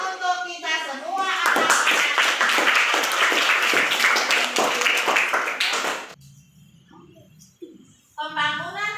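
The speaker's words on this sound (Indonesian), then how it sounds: "Tepuk tangan untuk kita semua." Classroom applause from a group of students, loud rhythmic clapping for about five seconds, bracketed by someone speaking before and after.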